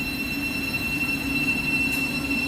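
A Class 717 electric train pulls away from Welham Green station on the East Coast Main Line toward Moorgate, a steady low rumble with a faint high whine, heard alone and moderately near.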